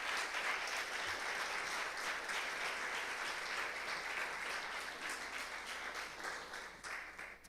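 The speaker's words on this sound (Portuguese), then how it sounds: "Consegue dar uma salva de palmas ao Senhor" A church congregation applauds together, a dense, steady patter of many hands heard from a little distance, continuous and fairly even before easing slightly at the end.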